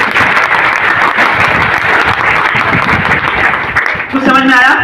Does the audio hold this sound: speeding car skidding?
no